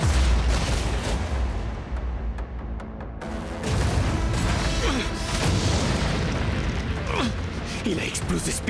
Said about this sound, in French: Il a explosé ce pilier d'un seul coup d'épée.